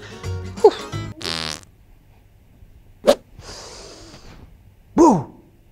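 Fart sound effect in a comedy sketch, a short buzzy blast among brief breathy gasps and sharp sneezy bursts, loud and close over quiet background.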